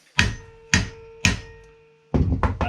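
Three sharp whacks from a lump hammer hit a plastic lift table part at an even pace. Each blow rings briefly and fades. A tighter cluster of duller knocks follows. The strikes are close and loud, and no one speaks.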